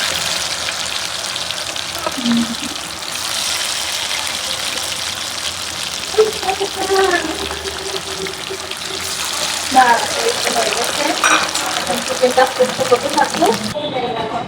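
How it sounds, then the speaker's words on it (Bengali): Chicken fries in hot oil, a continuous bubbling sizzle with some watery, splashy texture and a few louder crackles and clinks in the second half, heard up close. "আর চিকেনটা ভাজা হচ্ছে"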